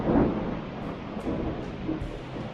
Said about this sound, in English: And now it's a very peaceful rain.